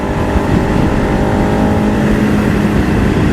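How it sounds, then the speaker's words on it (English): A steady, close Suzuki SV650 V-twin motorcycle engine drone with an even, throbbing rumble, holding a constant idle-like pitch throughout with no voices. "It doesn't even sound like a V-twin, it sounds like a parallel twin."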